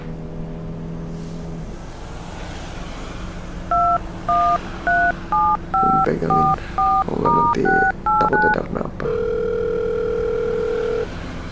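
A steady dial tone, then a quick series of telephone keypad beeps, a second steady tone at the end, with brief talk near the start over car-interior rumble.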